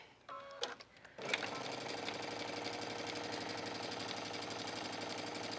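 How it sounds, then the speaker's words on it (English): A sewing machine stitching a denim shirt, starting after a few brief clicks and then running as a steady, fast mechanical hum with rapid needle chatter, close and continuous. "And I'm just going to stitch this"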